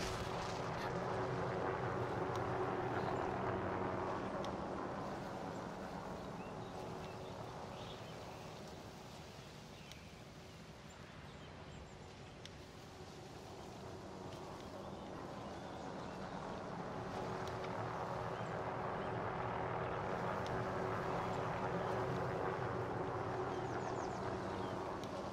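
Helicopter in Call of Duty Warzone, a continuous low rotor and engine drone that fades down at mid-clip and swells back up, with no talk over it.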